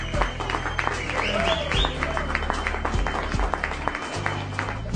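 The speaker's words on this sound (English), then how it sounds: "please give the ladies, the mothers, a round of applause." A crowd applauds mothers at a Mother's Day celebration, clapping and cheering mixed with voices and shouts throughout, fairly close and lively.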